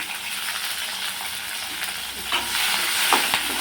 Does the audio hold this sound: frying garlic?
yes